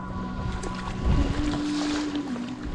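A sea kayak paddles across sheltered water off Shetland, with soft splashes and water movement close by, a brief stronger stroke partway through, and a steady low tone running underneath.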